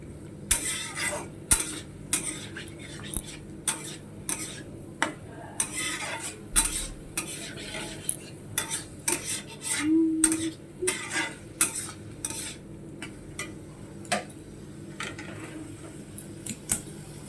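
Greens and onion are stirred and sautéed in a pan, with a run of sharp spoon-on-pan scrapes and clinks over a faint steady sizzle, close and uneven in rhythm.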